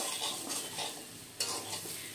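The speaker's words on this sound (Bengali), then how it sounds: "মশলাগুলোকে একটু ভেজে নিচ্ছি" Ground spices fry and get stirred with potato pieces for a vegetarian potato and pointed gourd curry, a steady soft sizzle with scraping passes and one sharper clink near the middle.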